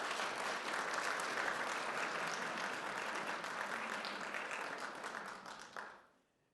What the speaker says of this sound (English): So let's give our graduates a round of applause.